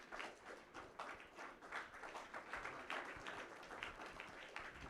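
An audience at a company anniversary celebration claps steadily in honor of a founder, dense continuous applause from a crowd, moderately distant and fairly faint, with no talking.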